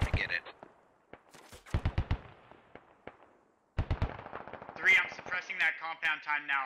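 Bulldog armored vehicle in the military shooter game Squad, firing bursts of heavy gunfire at range: two clusters of rapid, sharp repeated shots with echoing tails, the second burst denser and mixed with other battle noise and voices.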